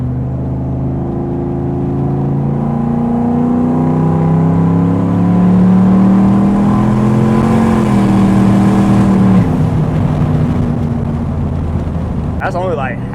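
Single turbo Chevrolet Silverado pulling hard at half throttle in second gear with tow mode on, a loud steady engine note rising in pitch as it accelerates, heard from inside the cab with continuous engine roar throughout.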